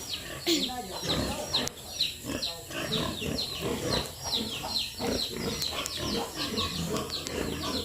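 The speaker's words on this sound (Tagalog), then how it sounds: "Ito na po ngayon ang ating mga baboy." Pregnant pigs on a farm grunting and squealing in a dense, continuous chorus close by, with bird chirps mixed in and a voice speaking over them.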